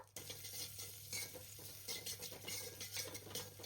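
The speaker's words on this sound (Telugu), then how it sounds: "కొబ్బరి ముక్కలు ఈ నెయ్యిలో వేగితే మంచి స్మెల్ వస్తాయి అండ్ బాగా ఫ్రై అవుతాయి కూడా" Coconut pieces frying in ghee, a soft continuous sizzle with intermittent stirring scrapes and light clinks of a spoon against the pan, faint and close, no talking.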